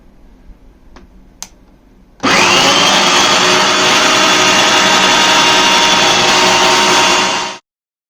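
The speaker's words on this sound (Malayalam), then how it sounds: "മിക്സി ഓൺ ചെയ്യാം." A Preethi Zodiac Cosmo mixer grinder, apparently chopping slightly soft carrots, starts after a couple of faint clicks, then runs loud and steady for about five seconds before cutting off abruptly.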